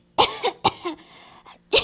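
Several sharp, close coughs in quick succession, with short pauses between them and a throaty rasp.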